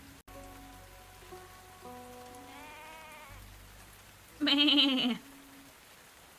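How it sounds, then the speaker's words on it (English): Soft, steady rain in the Tavern Talk game patters beneath gentle musical tones, broken once by a short, bleating vocal sound. "It's raining!"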